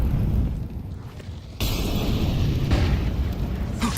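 HE grenade blasts in a Counter-Strike match boom out loud, with a sharp detonation followed by a rumbling burst and lingering noise.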